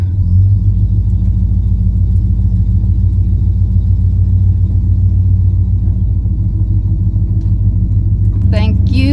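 A car engine rumbles loudly and steadily as the vehicle pulls away on an outback road trip, a low, close drone that continues throughout and shifts briefly near the end.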